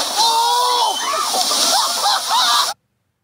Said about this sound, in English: An incredibly lucky moment for a tour boat was when the whale made a giant leap